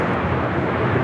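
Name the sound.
airplane taking off from runway 25 right at LAX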